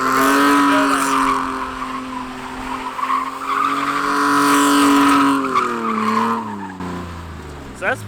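A car spinning donuts on a track screeches its tires in a long, loud, continuous squeal with a wavering pitch over the roaring engine, tapering off near the end.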